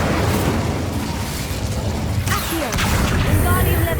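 Incendio fire spell blasts in the video game Hogwarts Legacy, a loud whooshing burst layered over dense game effects and rumbling background, with crackling flashes spread across the moment.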